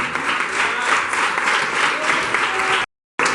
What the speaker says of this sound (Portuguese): Aplauda o Senhor pela vida do presbítero Éder Ramos, em nome de Jesus.